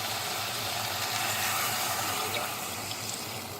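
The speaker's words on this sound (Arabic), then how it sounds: "راح نحط الماء الحين" Water pours steadily into a pot of browning chicken for chicken curry (saloona), a continuous rushing splash at moderate level with no voices over it.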